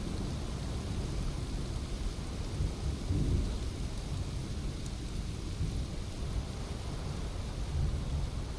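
Thunder rolls through a steady downpour in the online dinosaur game Path of Titans, a deep swelling rumble around the middle over continuous loud rain noise with no talking.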